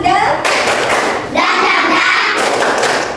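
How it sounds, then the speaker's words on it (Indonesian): A group of children in a classroom performs a rhythmic clapping chant, with steady clapping and chanted voices that carry on continuously over a few seconds. "kita tepuk semangat dulu ya"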